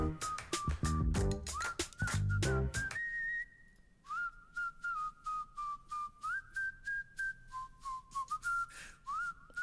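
A person whistles a melodic line of short and held notes during a music session, fairly close and clear, opening over a dense instrumental passage before continuing almost alone.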